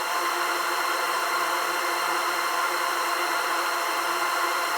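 An ambient drone patch from the Factory synth, soaked in reverb, sustains as a steady, dense, hissy wash with faint tonal bands, unchanging and alone throughout.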